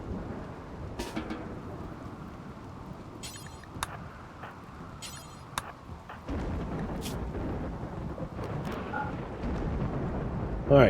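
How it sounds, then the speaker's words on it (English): Lightning strikes and rolling thunder in the video game RimWorld, several sharp cracks with rumbling under steady rain that swells louder toward the end. "I keep getting hit by lightning every time I go out there"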